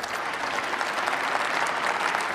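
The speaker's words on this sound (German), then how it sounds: "man achte auf den etwas gelangweilten Applaus aus den Reihen der FDP und aus den Reihen der CDU" Polite, unenthusiastic applause from the benches of the German Bundestag, a dense, even patter of many hands clapping at moderate volume throughout, with no voices over it.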